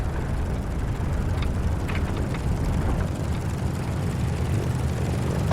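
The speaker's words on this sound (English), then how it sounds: "Your plane will start gathering speed." A WWII propeller plane from the video game Birds of Steel speeds up for takeoff, its engine holding a loud, steady, low drone. A few faint mechanical ticks sit in the background.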